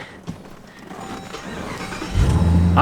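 A modified 800-horsepower Jeep Grand Cherokee Trackhawk engine cranks and starts near the end, catching with a deep rumbling roar that settles into a loud idle after a quiet lead-in.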